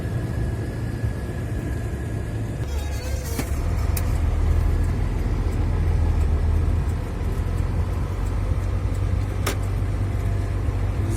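A car driving along a forest road toward a concrete plant, a steady low engine and road rumble heard from inside the cabin, with a few faint clicks and knocks and no talking.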